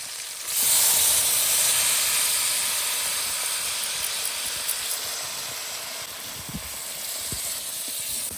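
Tomatoes hit hot ghee in a Chhattisgarhi-style semi bean curry, bursting into a loud, steady steamy sizzle that flares sharply at first and then settles into a continuous hiss with a few small pops.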